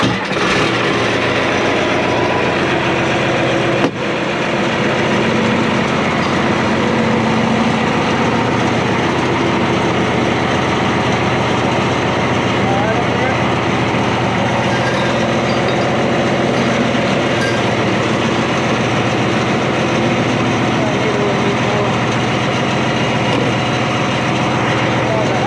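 An IH 175C track loader's diesel engine runs at idle, a loud, constant drone heard nearby for the whole stretch, broken only by a single sharp click early on.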